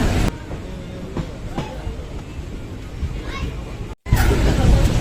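A train departs Hebbal station, its rumbling and rattling running steadily underneath as passengers, including children, talk nearby.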